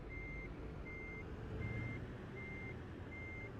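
A truck in Euro Truck Simulator 2 gives five evenly spaced reversing beeps, steady and moderately loud over a low, continuous engine rumble, with no speech.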